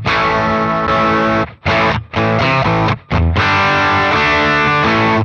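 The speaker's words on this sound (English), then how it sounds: "This is the upper mid boost. It's creating more distortion inside the valves in the amp." An electric guitar played through a valve amp with an upper-mid boost drives the tubes into thick distortion; sustained chords ring loudly with a couple of brief choked gaps between them.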